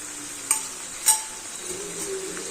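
Red chillies and a prepared spice mix fry in oil for pickle, giving a faint, steady sizzle with two short clinks of a spoon stirring the pan.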